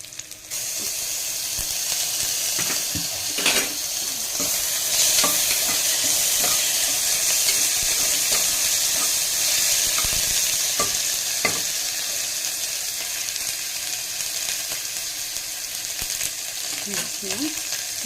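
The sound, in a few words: ingredients frying in a pan for chicken biryani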